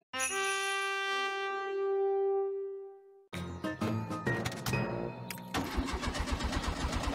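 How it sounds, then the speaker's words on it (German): A cartoon car with an empty fuel tank, from Ben and Holly's Little Kingdom, follows a long ringing chime with repeated sputtering, cranking attempts that never catch, loud and close. "Oh je, das Auto springt nicht an."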